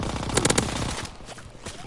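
Rapid video-game gunfire, a quick burst of several close shots early on, then fading into quieter background game noise.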